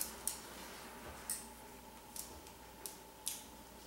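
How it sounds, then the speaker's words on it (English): Sharp, quiet snips of hair-cutting scissors trimming long sweeping side bangs, coming as about six separate clicks at irregular intervals over a faint steady hum, with no talking. "you just want to kind of just barely go back and forth with your scissors"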